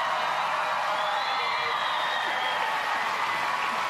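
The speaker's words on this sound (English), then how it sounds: "Give Shanae a big round of applause" A studio audience at a live television eviction show applauds and cheers steadily, with whoops rising from the crowd, a dense and loud wash of sound throughout.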